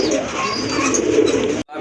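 Rajgolla fancy pigeons coo close by in a low, soft, throaty murmur that stops abruptly near the end.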